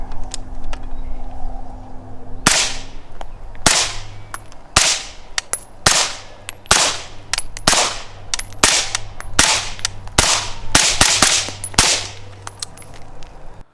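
A series of sharp, fairly muffled shots from a 5.56 rifle fitted with a suppressor rings out at irregular intervals, about a dozen cracks over a low background rumble.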